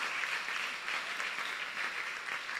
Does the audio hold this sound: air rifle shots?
no